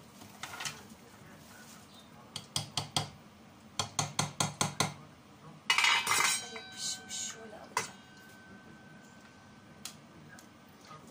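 Sharp metallic clinks and rattles come in quick bursts as fried potatoes are tipped onto a plate, followed by softer scraping and a few scattered taps.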